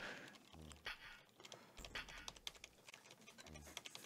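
Quick clicking keystrokes on a computer keyboard, brisk and irregular, with low thumps and a faint dog-like whimper in the background during a classic pirate game session.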